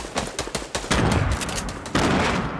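Rapid bursts of SMG fire in a Fortnite match, close and loud, with quick stuttering shots that pause briefly and then resume in a second sustained burst.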